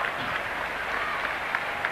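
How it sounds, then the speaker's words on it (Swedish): Black Army supporters of AIK roar from behind the goal after a 3-0 header against Brage in a 1983 match, a dense, steady wash of crowd cheering and applause heard from a distance. "undra på att hejarklacken Black Army bakom det där målet jubla"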